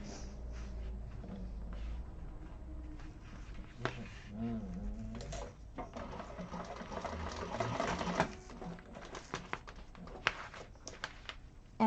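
A sewing machine runs steadily while topstitching a handbag seam, its close, continuous mechanical whir rising and easing slightly in speed with brief pauses.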